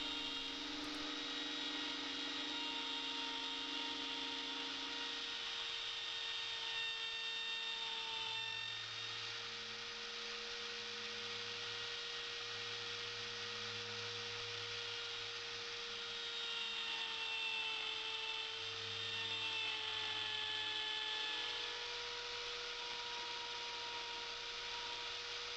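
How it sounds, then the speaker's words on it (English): An electric router cuts wood along a template, its steady high whine running continuously at moderate volume with slight shifts in pitch as the cutter moves back and forth, no voices. "So I just move the router backwards and forwards"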